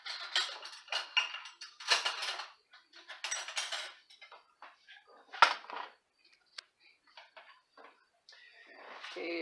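A spoon is pulled out from among dishes and cutlery: faint clinks and scraping rattles in bursts, with one sharp knock, in a quiet kitchen.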